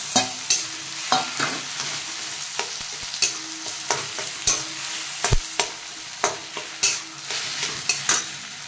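Roasted eggplant stir-fried in a pan, a constant close sizzle with regular sharp knocks and scrapes of a spatula against the pan, no voices.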